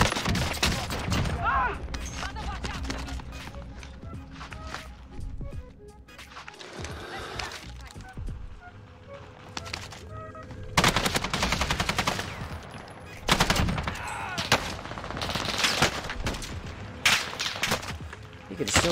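Gunfire in the Warzone video game with an AUG build: repeated bursts of rapid automatic shots and single cracks, loud and close, with a player talking over them.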